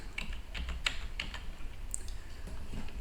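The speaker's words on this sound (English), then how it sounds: "Type your text" Keys tapped on a computer keyboard while entering text for a CNC engraving design, a quick irregular run of close, fairly quiet clicks with no talking.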